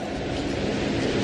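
Fast-rushing water pours into a tunnel, a loud, steady broadband roar that runs continuously and close without any voices.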